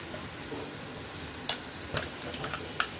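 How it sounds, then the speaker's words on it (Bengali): Spices frying in a hot pan with rice for vegetable khichuri, a steady low sizzle broken by a few sharp stirring scrapes near the middle and end, close and moderately quiet with no talking. "একটু ভুনা করে একটুখানি ভেজে নেই। এখন আমি এর মধ্যে মশলা দিই।"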